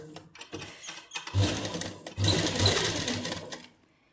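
A sewing machine stitches a seam on a party-wear suit in two close, rapid bursts of whirring, separated by short pauses and quiet clicks of the mechanism.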